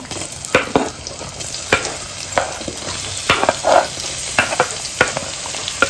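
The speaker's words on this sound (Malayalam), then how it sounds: "നമുക്ക് അരിഞ്ഞ് വെച്ചേക്കുന്ന ഉള്ളിയും കൂടെ ചേർത്ത് കൊടുക്കാം" Chopped onions frying in a pan for egg biryani, with a loud continuous sizzle broken by repeated spoon-on-pan scrapes and clinks as the onions are stirred.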